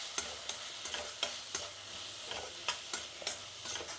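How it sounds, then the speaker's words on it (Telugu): A spoon stirs chilli powder into a frying mixture in a pan while uggani is being made, with regular scraping strokes over a soft sizzle, close and fairly quiet. "ఇప్పుడు ఒకసారి బాగా కలుపుకుందామండి"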